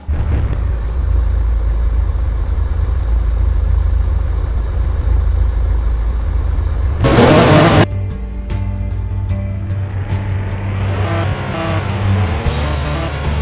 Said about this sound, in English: It obviously has a V8 and it got a twin turbocharged engine